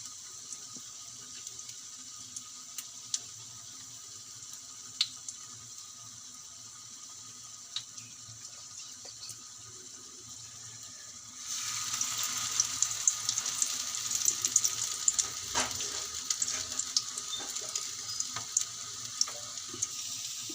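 Gram-flour coated bread slices frying in hot oil at home, a steady soft sizzle that swells louder and denser partway through as more slices go in, close and without talk.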